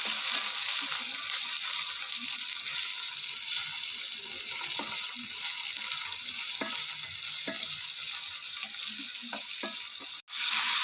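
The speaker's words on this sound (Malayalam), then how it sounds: "ഇനി തക്കാളി ഇടണം. തക്കാളി ഒന്ന് വഴന്ന് വയ്ക്കും" Tomatoes sauté in a frying pan over onions for a prawn fry, giving a steady, loud broadband sizzle with occasional soft stirring scrapes and a sharp click near the end.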